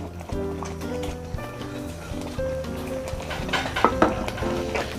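Potato pieces stirred into a thickening chicken ragout filling for risoles in a pan, with scraping and soft clatter close by, growing busier toward the end, no talk over it.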